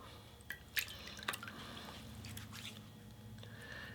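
Water dripping and splashing near a sink as hands are wetted before applying a rosemary lemon body scrub, with several distinct drips and small splashes over a low steady background.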